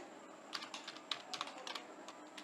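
Keys clacking on a computer keyboard while a formula is typed into an Excel spreadsheet, a quick irregular run of light taps over a quiet room.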